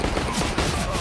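Rapid MP9 gunfire in a Counter-Strike match, a dense and continuous burst of loud, close shots with no gaps.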